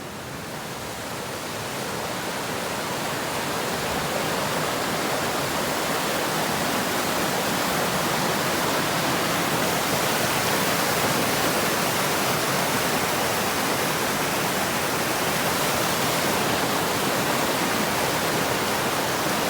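Continuous rushing water of a mountain stream on the Pacific Crest Trail near Stehekin, like a small cascade, a steady broadband roar with no breaks.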